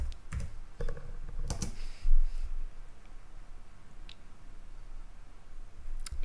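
Keys tapped on a computer keyboard to enter a search word, a few quick clusters of clicks early on followed by quieter stretches with faint background noise.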